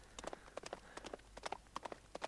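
Horse hooves clip-clop in a 2D Roblox video game, a quick, steady run of light, crisp hoofbeats repeating evenly throughout, fairly quiet, with no talking over them.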